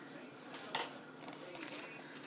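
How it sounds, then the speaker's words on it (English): A fried biscuit donut set down onto a draining surface, one short clattering tap followed by faint small clinks, close and quiet. "just plop them right on there"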